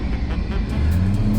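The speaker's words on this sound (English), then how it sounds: "let's give this thing another little acceleration and see how it does" An old, slow Ram farm truck engine drones loudly and steadily as the driver accelerates, the rumble deepening and strengthening toward the end of the short burst.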